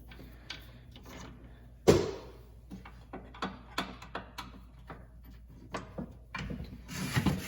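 A router table fence is loosened and slid back and forth, producing a series of sharp wooden knocks, clicks and brief rubbing scrapes close by, ending in a short louder scrape.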